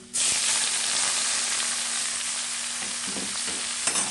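Garlic frying in a pan, a steady, close sizzle that starts abruptly and holds evenly for a few seconds with no voices.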